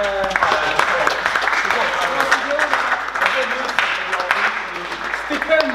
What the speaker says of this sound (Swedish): Stor applåd för